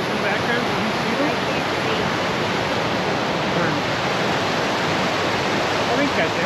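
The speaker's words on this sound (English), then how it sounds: "Can we get the waterfalls in the background?" Steady, loud rush of the Lower North River Falls in Cape Breton, a dense continuous roar of falling water filling the whole clip with no pauses.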